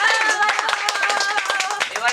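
Scattered hands clapping at a home jalebi-eating competition, a quick run of sharp claps for about two seconds with people chattering over them.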